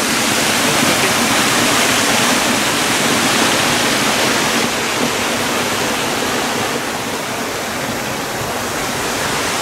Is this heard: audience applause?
no